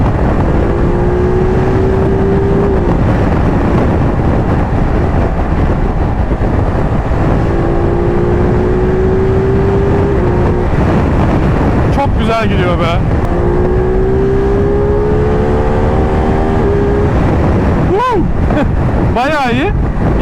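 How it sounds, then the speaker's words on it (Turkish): A Ducati Multistrada V2S motorcycle engine revs up three times in rising surges, each climbing in pitch then easing off, under heavy wind buffeting. "güzel fren olan bir motosiklette güzelce gazlamak çok keyifli"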